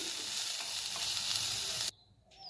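Garlic and coriander stir-fry in a pan with a steady close sizzle and scraping, then the sound cuts off abruptly near the end, leaving faint background noise.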